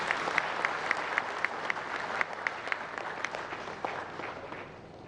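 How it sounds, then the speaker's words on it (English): Audience applause at a formal government event in Ghana, steady clapping from a crowd with sharp individual claps standing out, sustained throughout and fading slightly at the end. "Let's welcome him with a round of applause."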